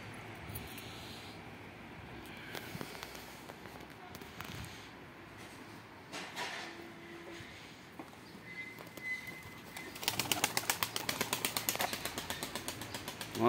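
Pigeon wings flap in a rapid burst of fluttering near the end, after a stretch of quiet rustling and faint background noise.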